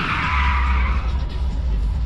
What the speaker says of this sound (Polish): tym autem będzie driftował